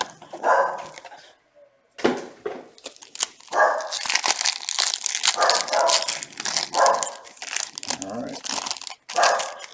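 A dog barks several times in short bursts indoors during a baseball card break, mixed with loud crinkling and tearing of card packs close by.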